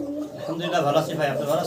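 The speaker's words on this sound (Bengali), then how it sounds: "একজোড়া এক্সিবিশন কবুতর দেখতে পারতেছি আমরা" A pair of large exhibition pigeons coo softly and repeatedly nearby, low rolling calls overlapping one another against a quiet room background.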